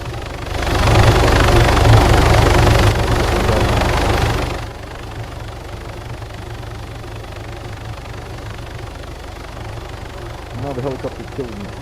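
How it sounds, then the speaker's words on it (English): A helicopter engine in the video game DayZ drones loud and steady for about four seconds, then drops to a quieter continuous hum, with brief speech near the end. "Now the helicopter killed me."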